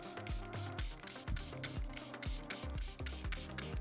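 A nearly empty bottle of face mist is pumped repeatedly in quick, hissy, rhythmic spritzes, close and fairly quiet, with a faint mechanical click at each press and no voice.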